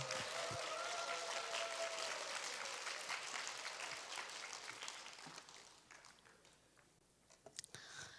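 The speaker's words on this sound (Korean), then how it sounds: "우리 사랑의 박수 한번 부탁드리겠습니다" Catholic retreat audience gives warm applause, a full sustained clapping that gradually thins and fades out into a few scattered claps.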